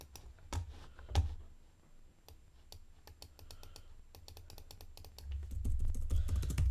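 Keys on a computer keyboard clack in quick irregular bursts during an online Goose Goose Duck game, with sharp close taps over a low background hum and no talk.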